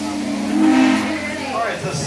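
Steam locomotive whistle from a Union Pacific Big Boy excursion at Steamtown, a sustained tone held for a second or so over a hissing, rumbling background, then fading into faint noise.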